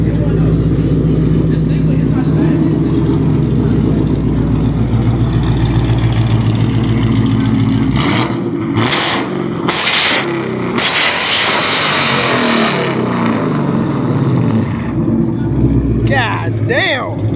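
A black car idles nearby with a deep, steady low rumble, briefly interrupted midway by people talking and rustling, then settling back into the idle.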